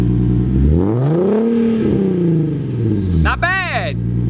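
Nissan 370Z with test pipes and open headers, its engine rising and falling in a loud, close rev with a harsh raspy tone, then dropping back to idle, while a voice speaks over the top.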